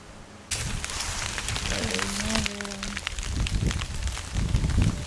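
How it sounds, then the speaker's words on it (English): Rain sweeps through the trees outdoors at night, a dense, steady hiss of drops that starts abruptly and holds, with a faint low tone sliding briefly underneath and no talking. "Very strange rain system going through right now."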